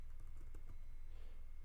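Quick, light clicking of keys on a Spanish-layout computer keyboard, a soft pattering of taps over a steady low hum, faint and close, with no one talking.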